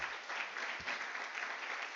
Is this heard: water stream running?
no